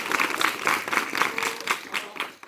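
A group of schoolchildren clapping in a classroom during a TB and nutrition awareness session, a steady patter of many hands lasting a couple of seconds at moderate loudness.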